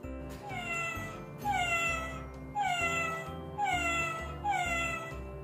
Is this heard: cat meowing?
yes